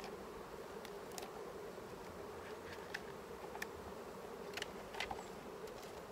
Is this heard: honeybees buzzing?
yes